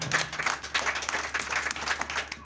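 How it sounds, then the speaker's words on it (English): Steady applause from a crowd at a Thanksgiving church service, many hands clapping at once in a dense, even patter that holds for a couple of seconds. "A round of applause for Jesus."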